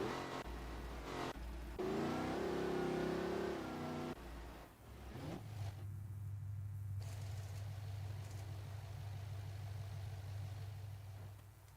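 A race car engine in a racing video game revs hard during a burnout celebration, then settles into a steady, loud droning hum that holds alone to the end.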